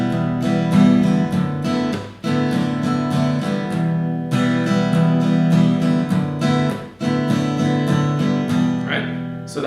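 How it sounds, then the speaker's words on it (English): Acoustic guitar strummed in an even, straight rhythm over two chords, close and full, with regular strokes and brief pauses at chord changes, heard alone without talk. "So that's the strumming pattern of the song in a straight rhythm."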